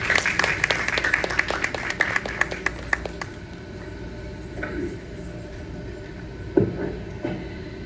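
A small audience claps for a few seconds after an Indian classical dance performance, loose individual claps tapering off into a quiet room with faint murmurs and a soft thump.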